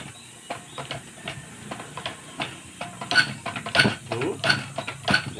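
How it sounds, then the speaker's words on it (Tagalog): Diesel injector nozzles from a 6D14 engine on a pressure tester spray in rapid, sharp hissing bursts at around 2,600 to 2,800 psi, repeated close up over a steady background hiss. "Kita nyo, sirit mga busing."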